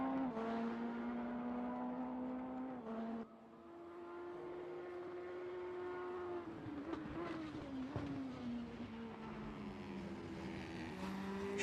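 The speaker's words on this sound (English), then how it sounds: "It's almost like that blown diffuser type noise that you used to get in Formula 1" In the RaceRoom racing simulator, a race car's engine gives a blown-diffuser-style overrun from outside: a sustained buzzing drone that dips briefly, then resumes and wavers, with a few sharp crackles.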